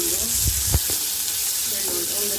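Onions fry in a pan with a steady broadband sizzle, a few low thumps from stirring early on, and faint voice-like murmurs in the background.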